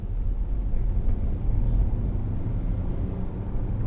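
A 2012 Range Rover Sport with the 3.0 SD V6 diesel pulls away under acceleration, a steady low engine rumble heard from inside the cabin with no talking.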